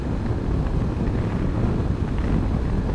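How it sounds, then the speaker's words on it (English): Constant, loud, buffeting wind roar hits the microphone on a Yamaha MT10 motorcycle set up for touring, heard while cruising at speed; it is a steady low rumble with no voices. "So the wind's hitting me right in the face."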